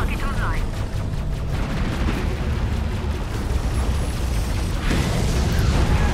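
Missiles launch in the space combat video game Fractured Space, with dense rumbling booms and bursts of weapon fire over a continuous engine drone, and a sharper whoosh near the end.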